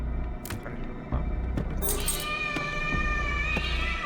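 A cat meows in the video game Layers of Fear, a drawn-out, wavering cry rising in the middle of the clip over low background rumble and scattered clicks.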